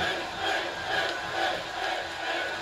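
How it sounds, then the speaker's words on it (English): A wrestling arena crowd in the WWE 2K18 video game roars and chants continuously, a dense loud wash of massed voices rising and falling in rhythmic swells. "Crowd strongly behind Finn Balor in this outing."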